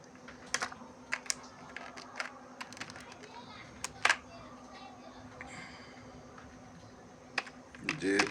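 Computer keyboard clicking in irregular bursts as a file name is typed, light close-up keystrokes with a faint steady hum and a voice speaking at the end.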